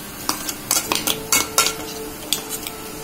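A metal spoon stirs a chili and garlic mixture in a pan, close scraping clinks in quick irregular bursts over a faint background sizzle.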